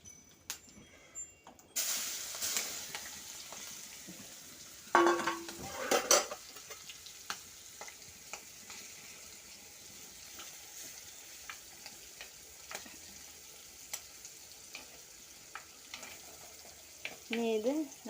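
Curry leaves hit hot oil with mustard seeds for a prawn curry, giving a steady close sizzle with occasional spoon scrapes and clinks against the pan as they are stirred.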